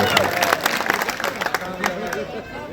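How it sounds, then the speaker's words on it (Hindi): Audience clapping at a political rally for BJP candidate Subhash Kalsana in Shahabad, sounding as steady applause and crowd noise with sharp claps mixed through, fairly loud throughout. "सुभाष कलसाना का नाम आते ही थोड़ा ताली तुली तो बजाओ"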